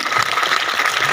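Audience at a company venue event breaks into applause, a dense, steady wash of clapping, loud and close, over its whole brief length.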